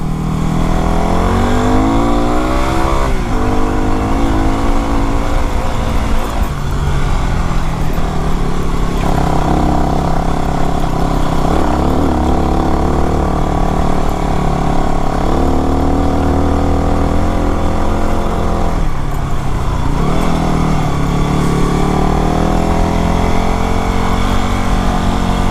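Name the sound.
Yamaha WR250R dual-sport motorcycle riding on dirt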